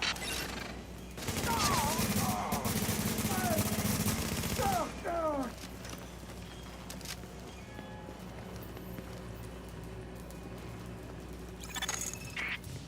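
Sustained, rapid gunfire rattles for several seconds in the shooter game The Division, dense and loud, then cuts out and leaves a quieter ambient bed with faint scattered sounds.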